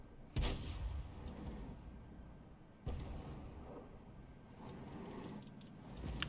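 A heavy tank gun firing in World of Tanks from a Bat.-Châtillon 155 58 artillery tank, two booming shots a few seconds apart over a low continuous engine rumble, with no talking.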